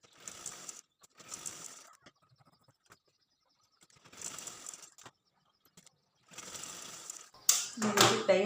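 A sewing machine stitches a lining blouse in short bursts, several runs of rapid mechanical whirring separated by pauses, with a louder clatter of handling at the end.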